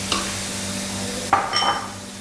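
Ground paste of onion, coconut and dried red chilli being stirred and sautéed in hot oil in a pan, with a short scrape and sizzle near the start and a louder burst of stirring and frying about a second later, no voices.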